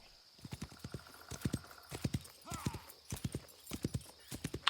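A horse gallops along in the Western video game Wild West Online, its hooves landing in fast, even clusters of clops, close and soft, with a brief whinny-like note partway through.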